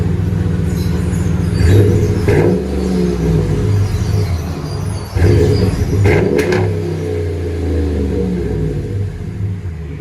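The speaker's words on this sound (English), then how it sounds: "And there's the muffler we cut off. So we'll let you guys hear it in a second." A Ram 5.7L Hemi V8 pickup with its muffler removed idles with a deep, loud exhaust rumble and is revved in several throaty bursts, close by.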